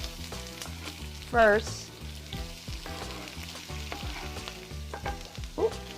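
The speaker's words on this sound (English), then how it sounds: "We put the peppers and the onions in the skillet" Peppers and onions sizzle and pop in a skillet in a steady frying crackle, with a couple of brief voice bursts and a short spoken word over it.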